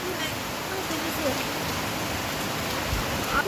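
Heavy rain that has fallen for fifteen days, with wind, pours down as a dense, steady hiss of drops hitting surfaces, close and continuous throughout.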